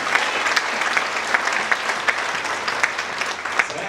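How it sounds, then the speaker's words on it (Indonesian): A congregation at a church service bursts into a loud, continuous round of applause, many hands clapping together in an even, unbroken roar with occasional sharper individual claps standing out. "Berikan tepuk tangan bagi Tuhan."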